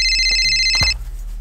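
A device rings with a steady, high electronic tone close by, then a clunk and the ringing stops abruptly, leaving a quiet hum.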